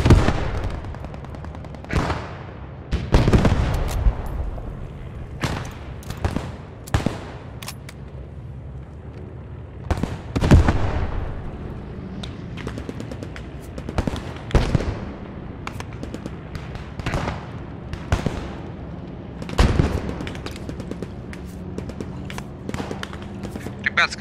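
Tank and weapon fire in the WWII shooter Post Scriptum, with an M3 Stuart light tank firing on a house. Sharp cannon and gunshot blasts crack out at irregular intervals, some loud and close, over a low battlefield rumble with faint voices.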